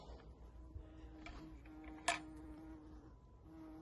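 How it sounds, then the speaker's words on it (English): A bee buzzes softly in a home garden by a fig tree, a faint steady drone with a brief sharper burst near the middle, set against quiet outdoor ambience. "just a busy bee"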